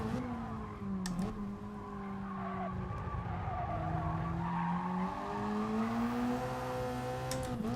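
Race car tyres squealing continuously in a racing video game while being warmed up, a sustained shifting screech over engine noise, fairly loud and steady throughout.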